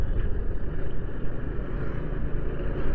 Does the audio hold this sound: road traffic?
yes